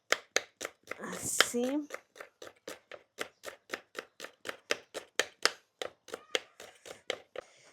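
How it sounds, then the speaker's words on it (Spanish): A knife chops leek on a cutting board in a steady, fast rhythm of about two dozen crisp, close strikes, briefly overlapped by a short spoken word near the start. "Ahora sí ya hemos terminado de picar la cebolla puerro."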